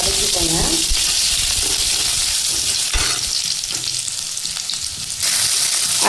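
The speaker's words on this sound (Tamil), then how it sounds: "அதுக்கப்புறம் தட்டி வச்சு இஞ்சி போட்டு வதக்கிக்கோங்க" Crushed ginger sautéing in oil for a buttermilk curry (mor kuzhambu), a loud, steady close-up sizzle and fry with stirring scrapes throughout, no talk.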